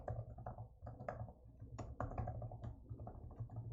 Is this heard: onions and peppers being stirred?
no